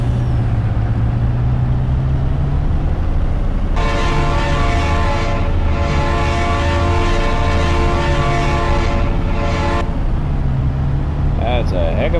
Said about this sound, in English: That's a heck of a horn